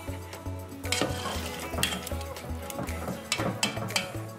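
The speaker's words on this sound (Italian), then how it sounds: "Ogni tanto continuiamo a girare sempre il riso, non lasciatelo mai da solo" Saffron risotto rice being stirred in simmering vegetable broth, giving a steady scraping and clinking of spoon against the pot with soft bubbling, close and continuous with a few sharper knocks.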